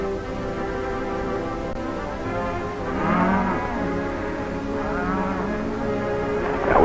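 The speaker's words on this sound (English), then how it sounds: "That's some of our cattle down there." Cattle on an open range moo in long, drawn-out calls, one swelling louder midway, against a constant hum of background noise.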